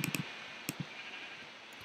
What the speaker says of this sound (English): there's so many sheep over here